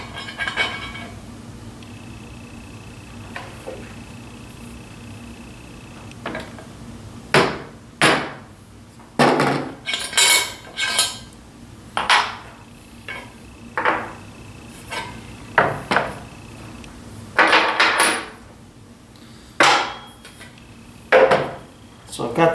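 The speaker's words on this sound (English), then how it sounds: "I'm going to drop my transfer punch through this 1/4 inch hole." A hammer strikes a transfer punch dropped through a 1/4 inch hole to mark a pivot point on a crosscut sled, sounding as a run of sharp metallic taps, some single and some in quick pairs, close over faint background hum.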